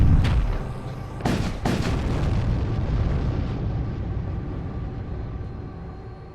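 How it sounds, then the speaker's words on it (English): A graviton bomb detonates in the space combat game Void War, opening with a sharp blast followed by two more heavy booms, then a long rumbling decay that slowly trails off. "Graviton bomb."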